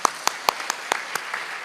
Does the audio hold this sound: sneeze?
no